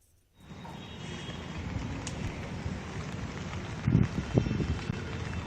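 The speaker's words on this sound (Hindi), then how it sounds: "कल रात से लगातार बारिश जारी है" Steady rain falls without letup in Shahjahanpur after Cyclone Nisarga, a dense, even hiss with a few louder patters near the end, no voices present.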